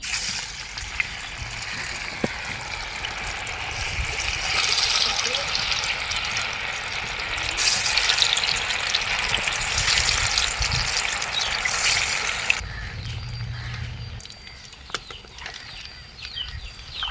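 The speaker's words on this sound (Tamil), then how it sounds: "ஆயில் சூடாயிருச்சு, பொரிக்க ஆரம்பிச்சிடுவோம்." Fish fries in hot oil, a continuous crackling sizzle that swells and then thins out near the end, with a few clinks and faint background sounds.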